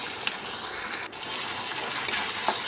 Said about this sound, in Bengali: তো সবগুলোকে আমি এভাবে করে তেলের উপর দিয়ে ভেজে নেব।